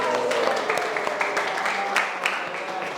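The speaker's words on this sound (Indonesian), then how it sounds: "Tepuk tangan." A classroom of pupils claps together in a brief burst of scattered, uneven applause, fairly close and moderately loud, with individual claps audible.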